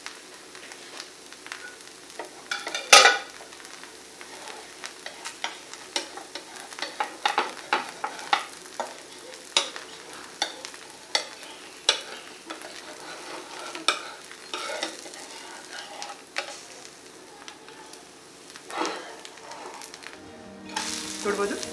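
Rava dosa frying on a hot pan until brown, with a soft, continuous sizzle broken by scraping and clinking of a spatula as it is lifted off.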